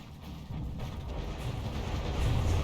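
Naval gun volley in the warship combat game From The Depths: a dense, continuous rumble of heavy cannon fire and low booms that builds in loudness toward the end, with no clear separate shots.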